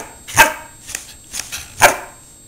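A dog barks four times in a slow, uneven series during a counting trick, each bark loud and close, with quiet pauses between and no talk over them.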